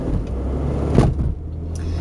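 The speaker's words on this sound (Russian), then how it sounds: "Проезжаем маленькую улицу." A car drives along a small, tree-lined street in New Hampshire, giving a steady low rolling rumble of engine and tyres that swells briefly midway and then settles.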